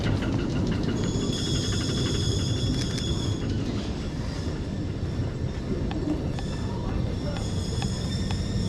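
A Lisbon-style elétrico tram climbs a narrow street nearby, its wheels rumbling and squealing on the rails with rattling clatter throughout, while people talk faintly in the background.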